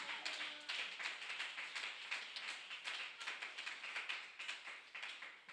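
A church congregation claps rhythmically and steadily in acclamation of Jesus Christ, a fairly quiet, even pulse of many hands through the whole stretch.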